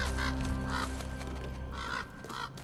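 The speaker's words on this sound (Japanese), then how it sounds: "カラスが脅威する。" Crows cawing in the God of War video game, four harsh, evenly spaced calls over a low game ambience, moderately loud without speech.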